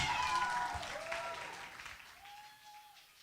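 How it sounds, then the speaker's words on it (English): A crowd claps and cheers in steady applause that gradually fades, with a faint tonal whistle-like sound near the end. "A round of applause."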